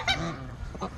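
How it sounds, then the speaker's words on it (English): Ducks honking nearby outdoors, a short pair of nasal calls with the first loudest and a softer one near the end. "There's some crazy ducks."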